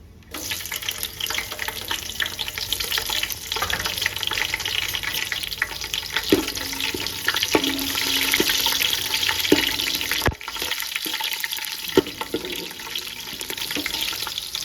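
Green chillies, cinnamon and cloves frying in hot oil for chicken dum biryani give a steady close sizzle and crackle, with occasional spoon knocks against the pan and a brief drop near the middle.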